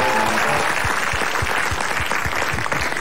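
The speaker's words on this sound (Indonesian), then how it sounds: "tepuk tangan buat Cinta Laura" A studio audience at an Indonesian comedy talk show applauds to welcome a celebrity guest, a loud, dense wash of clapping that continues steadily throughout with a few low thumps beneath it.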